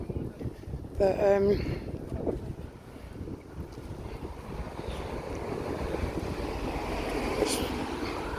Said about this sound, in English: wind's blowing me all over the place